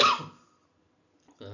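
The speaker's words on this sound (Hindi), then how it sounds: "थोड़ी खांसी ज़्यादा आ रही है" One short, sharp cough bursts out at the start and fades quickly, followed by near silence and then the onset of a voice.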